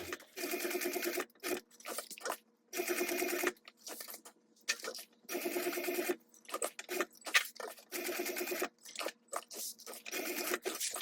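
A sewing machine stitches a logo tag onto a mini backpack in repeated bursts of steady whirring, each run a second or two long, with short pauses between them, close and clear with no talk.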